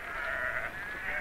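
A single sheep bleats loudly and close by, one drawn-out wavering call lasting about a second.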